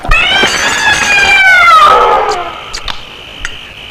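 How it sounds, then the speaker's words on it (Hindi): A cat lets out a long, loud, drawn-out meow that falls in pitch, followed by a few fainter clicks and knocks in a scene from a 1988 Hindi horror film. "रघु, तुमसे कितनी बार कहा कि इस बिल्ली को खाने की टेबल से दूर रखा करो।"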